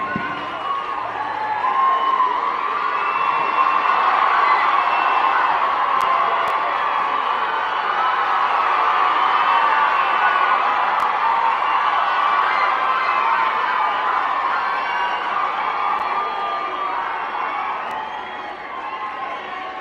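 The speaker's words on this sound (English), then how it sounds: "with a big round of applause from you" An audience at a memorial-day ceremony for the Maruthu brothers applauds and cheers the Governor of Tamil Nadu, R.N. Ravi, a loud sustained roar of clapping, whoops and crowd noise that holds for about twenty seconds before easing slightly.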